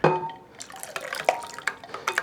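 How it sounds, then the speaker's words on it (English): Cold iced water trickles and splashes into a bowl of yogurt mixture in short bursts, with light clinks of dishware between the drips. "I'm just gonna mix this first and add a little bit of the cold iced water."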